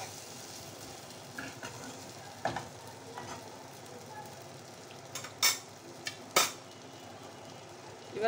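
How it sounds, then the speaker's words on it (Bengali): Meat sautéing in a pan with a steady low sizzle and occasional sharp scrapes and clinks of a spatula being stirred against the metal, the scraping coming in a few scattered bursts. "আমি ভালোভাবে কষিয়ে নিচ্ছি।"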